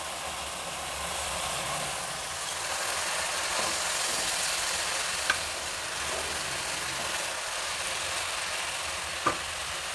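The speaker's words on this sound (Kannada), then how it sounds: "ಅಕ್ಕಿನ ತೊಳೆದಿಟ್ಕೊಂಡಿದ್ದೀನಿ, ಅದನ್ನು ಹಾಕ್ತಾಯಿದ್ದೀನಿ" Washed Sona Masoori and basmati rice goes into a hot pan with peas, giving a steady, loud hissing sizzle with a couple of faint clicks, and no voices.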